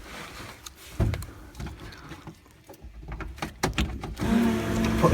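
A weak, sleepy battery struggles to crank a drift car's engine, giving a labored, uneven whir with a few bursts of effort over several seconds, fairly close and without voices.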